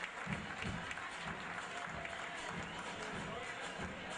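Crowd applause at an amateur football match as a player leaves the pitch, a steady wash of clapping and crowd noise heard from a distance, with commentary voices underneath.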